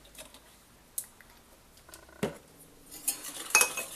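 A spoon stirring cornflour and vanilla into Oreo cream in a pot, light clinks and a sharp scrape, close and fairly quiet, then busier metallic tapping at the end.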